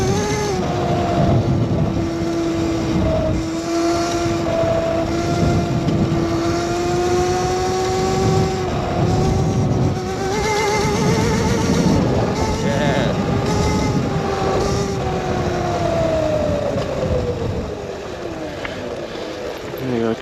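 Electric Razor dirt bike ridden on dirt through a Christmas Eve snowstorm, its motor whining in a steady rising and falling tone that lasts throughout, close and loud, with some wind and road noise underneath.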